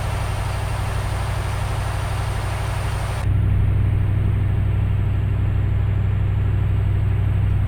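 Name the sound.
Kamaz truck engine driving, from video game Euro Truck Simulator 2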